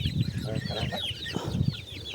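Three crested grey hens cluck while eating zucchini, cheese and cracked grain, giving close, repeated low clucks and a few higher calls; a voice speaks briefly over them.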